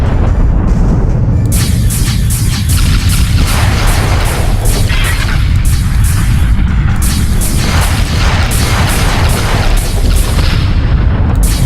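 Continuous loud booming explosions destroy cargo containers in the space combat game Freespace. The blasts come in dense rapid succession, layered with crackling bursts, and fill the whole stretch without speech.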